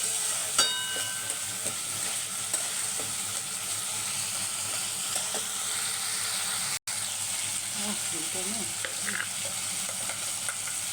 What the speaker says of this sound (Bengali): পরিমাণ মতো হলুদটা দিয়ে দেবে এবার একটু কষিয়ে নিতে হবে